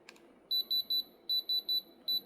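An electronic diamond tester beeps on a real diamond: bright, clear pulses come three times, pause briefly, then come four more times in steady rhythm, close and clean.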